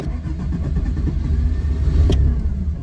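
Hillman Imp engine cranking and catching, then revving unevenly as it runs rough from a flooded carburetor, loud and close throughout the short burst with no talk.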